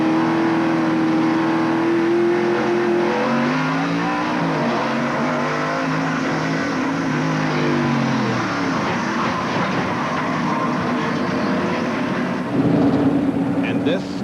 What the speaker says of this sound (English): But there are the cars spinning and hitting the wall.